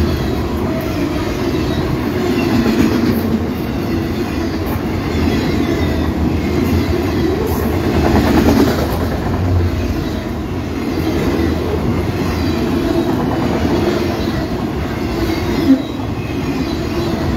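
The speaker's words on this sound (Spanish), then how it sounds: "Es un tren mixto. Ahorita trae estos contenedores con vehículos." A mixed freight train carrying containers of vehicles rumbles past close by, a continuous heavy roar of wheels and cars with faint clanks and a brief squeal.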